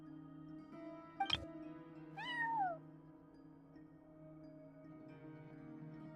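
A cat meows in the video game Genshin Impact, one short chirp followed by a longer, falling meow, set against a quiet, sustained musical background.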